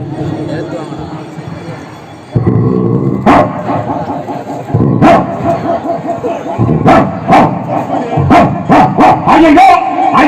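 A mimicry artist on a stage comedy show imitates an Alsatian dog barking in an actor's style. Loud vocal woofs and sharp bark bursts come in an irregular series, mixed with voiced growling tones.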